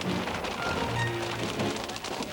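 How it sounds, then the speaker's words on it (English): Heavy rain and hail pour down during a storm chase, a dense, steady roar of drops drumming on a vehicle with no break and no voices. "The rain and hail pick up again."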